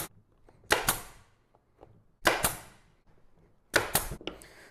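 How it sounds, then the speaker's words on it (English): A staple gun fires fabric staples along the edges of a Chevy Silverado armrest center console cover, giving three sharp, close snapping bursts, each a quick double clack, with quiet pauses between. "So I'm just going to go through and staple along the edges here."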